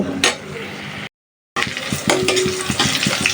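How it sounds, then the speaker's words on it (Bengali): Onion, garlic and cumin frying in oil to temper dal in a home kitchen, a loud close sizzle with stirring scrapes and metal clinks of a pan, broken by a brief silence. "ডাল বাগারের জন্য পেঁয়াজ, রসুন, তারপর জিরার ফোড়ন"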